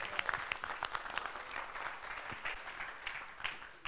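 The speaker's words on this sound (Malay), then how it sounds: "Tepuk tangan untuk soalan dia." Audience applause at a business copywriting seminar, a steady wash of many hands clapping throughout, fairly close and dense with no talk over it.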